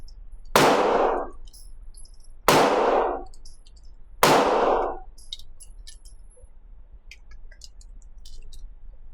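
Three loud, sharp shots from an Atlas Athena V2 pistol fitted with a Trijicon SRO sight ring out at a shooting range, evenly spaced a couple of seconds apart, each trailing a short echoing decay, with faint clinks in between.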